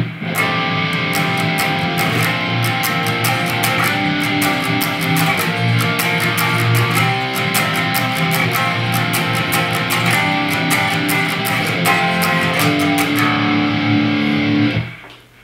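Distorted electric guitar plays add9 chords in drop D, with a thick, loud, continuous wall of crunchy tone and rhythmic chord changes for about fifteen seconds before stopping abruptly. No voices.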